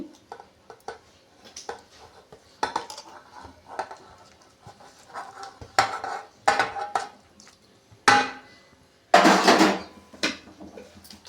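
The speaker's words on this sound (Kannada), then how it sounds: "ಇವಾಗೆಲ್ಲ ಮಿಕ್ಸ್ ಮಾಡ್ಕೊಳ್ಳೋಣ ರವೆನ ಹಾಕೋತಾ ಇದ್ದೀನಿ ಹಾಗೆ ಸೌತೆಕಾಯಿನ ಹಾಕೋತಾ ಇದ್ದೀನಿ" A spoon scrapes and knocks against a bowl while semolina and grated cucumber are stirred together for instant cucumber idli batter, with irregular close clinks and one louder clattering stretch near the end.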